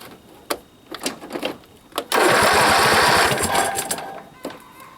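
A garden tractor engine with a faulty choke cranks loudly and steadily for about a second and a half. Short clicks and bumps come before and after.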